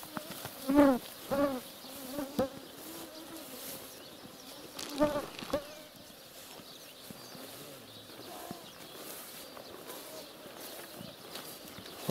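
Mosquitoes whine and buzz steadily at a damp, rainy lakeside or riverbank, a thin constant insect drone with a few louder passes close by, heard alone without talk.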